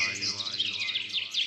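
Nightingales sing rapid, repeated high chirps and warbling phrases close by, over a soft, steady low hum.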